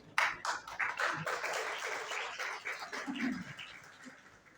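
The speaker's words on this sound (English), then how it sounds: "So please just have some clapping for our students" An audience claps for students at an inauguration ceremony for a Russian language centre at Federal Urdu University, a brief round of scattered, fairly faint hand claps that trails off after a few seconds.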